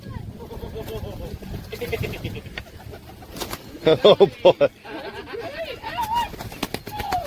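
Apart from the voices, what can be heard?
pigeons cooing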